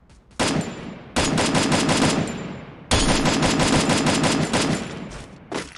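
M4 rifle fire in Free Fire rattles out in long rapid automatic bursts, loud and close, three sustained strings of shots separated by brief pauses, with a short final burst at the end.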